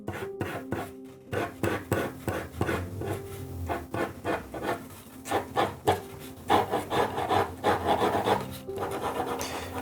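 A pencil sketching hair strands on paper makes close, repeated scratchy strokes in quick rhythmic bursts, alone and fairly loud.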